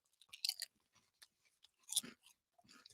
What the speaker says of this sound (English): Crunch, crunch, crunch. I still get that ranchy taste.